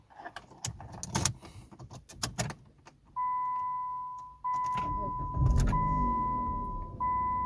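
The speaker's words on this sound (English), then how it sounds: "Now push the brake pedal and start your vehicle using your working key." A 2004-2009 Dodge Durango is started with its key. Keys jingle and click, then a steady electronic chime sounds before the engine cranks and catches into a low idle as the chime continues.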